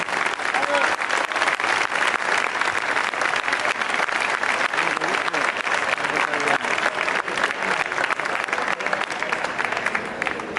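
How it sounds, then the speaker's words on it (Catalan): A large audience gives loud, sustained applause for a cornet and drum band at a farewell; dense clapping fills the whole stretch without a break. "Despedim amb un fortíssim aplaudiment a la banda de cornetes i tambors Tio València"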